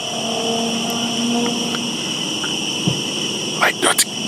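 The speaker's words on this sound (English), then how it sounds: "It's eerily quiet, with only the sound of crickets breaking the silence." Steady, high-pitched cricket chirping drones on through a quiet night in the woods, with faint distant rumble and a few brief sharp gunshots near the end.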